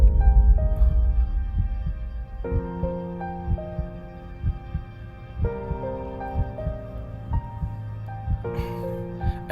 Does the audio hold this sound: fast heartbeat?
yes